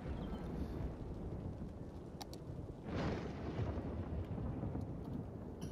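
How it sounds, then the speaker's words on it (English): Thunderstorm in the city-building game Cities: Skylines, with a steady roar of rain and wind and a swelling rumble of thunder rising midway, heard alone without voices. "It's the thunderstorm"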